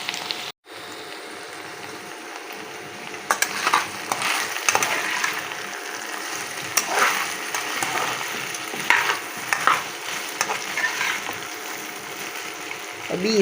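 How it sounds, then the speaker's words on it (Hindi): Okra with green chilies frying in hot oil at home, a steady crackling sizzle with scraping stirs and clinks of a spoon against the pan, continuing without speech for several seconds. "तो मिर्चें मैंने डाल दी, साथ हो जाएंगी और इसे मज़ीद तलना है"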